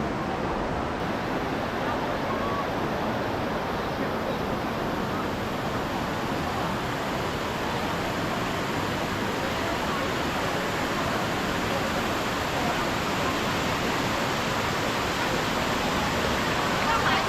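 A mountain stream in the Tianmen Mountain area rushes continuously, a dense, steady broadband hiss of flowing water heard up close for the whole stretch.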